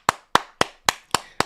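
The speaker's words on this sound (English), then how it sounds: "They deserve a huge hand clap for that one" Hand clapping, six sharp, evenly spaced claps in quick succession, close and loud with no other sound.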